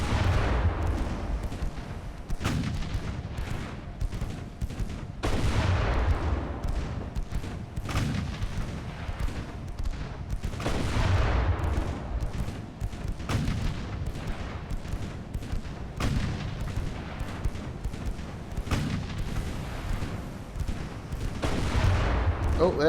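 Naval artillery fires in the video game Ultimate Admiral: Dreadnoughts, with repeated deep booms and salvos spaced every few seconds over a constant low rumble of battle noise.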